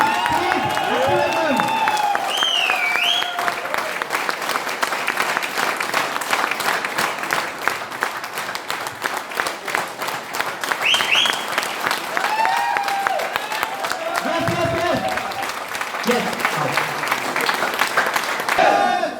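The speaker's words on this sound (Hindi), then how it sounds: "आपकी जोरदार वाली तालियों के बीच में मैं इनवाइट करने जा रहा हूं" Audience applause welcoming a trainer onto the stage at a technical training event, steady dense clapping sustained throughout with music-like tones and voices mixed in over it.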